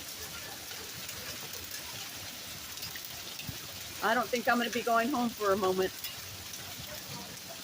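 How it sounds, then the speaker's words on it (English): Steady rain falls on grass during a brief rainstorm, a continuous soft hiss lasting throughout, with people talking nearby partway through. "now we're watching the rain"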